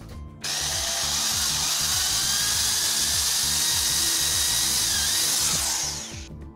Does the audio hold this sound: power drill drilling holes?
yes